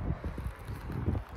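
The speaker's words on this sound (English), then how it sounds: "ooh, windy." Wind gusts across a desert hiking trail in Arizona, a low, steady rumble buffeting the microphone for a moment with no voices.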